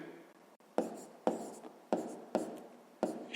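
Pen or pencil strokes writing out a fifth-grade math exercise by hand, five distinct close scratching bursts at a steady rhythm with faint room noise between them and no talking.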